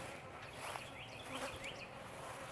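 Honey bees buzz steadily around a backyard beehive during the first hive inspection of 2020, a faint continuous drone with individual bees passing close now and then.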